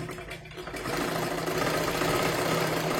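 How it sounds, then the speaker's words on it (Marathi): A sewing machine stitches piping on a katori blouse, its motor whirring softly at first and then running into a louder, steady rapid chatter close by, with no talk. "अशा पद्धतीने शिलाई मारून घ्या"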